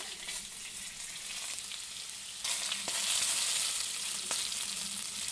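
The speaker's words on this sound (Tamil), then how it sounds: "மீன் குழம்பு வந்து நல்லா கொதித்து வந்துருச்சு" Fish curry bubbling on the stove, a close steady hiss and sizzle that grows louder partway through, with faint clinks and no talking.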